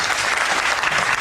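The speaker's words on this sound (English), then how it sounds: "I tried to give you some applause." Applause sound effect, a dense burst of crowd clapping that stays loud and even for about a second.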